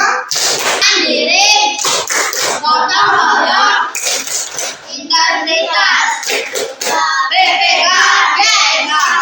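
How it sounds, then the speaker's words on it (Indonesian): A class of schoolchildren performs the rhythmic 'tepuk PPK' clapping chant, bursts of sharp group claps alternating with loud chanted voices in a fast, patterned rhythm. "Ditambah tepuk PPK. Bisa ya? Tepuk PPK."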